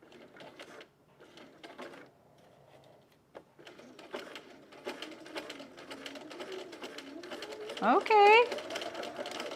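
Sewing machine stitching a Loftus bralette, running in short bursts through the first half, then a steadier longer run with a brief higher whine near the end; a person speaks briefly over it.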